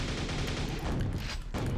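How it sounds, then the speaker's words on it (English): Grenades fired at a shambler in Quake burst in a rapid, loud, overlapping cluster of explosive booms, harsh and broadband, followed by a sharper blast near the end. "Just gonna plug him with 3 grenades."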